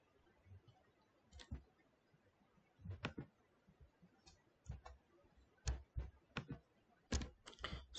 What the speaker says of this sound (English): I can type this